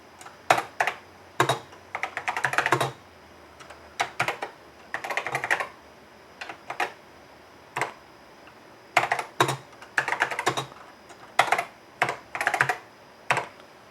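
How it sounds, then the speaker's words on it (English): Typing on the keyboard of a new old stock 1984 Tano Dragon computer with keys sticking on the right-hand side: bursts of close, clacky keystrokes in irregular clusters separated by short pauses. "all these keys on this side are getting stuck on the right-hand side"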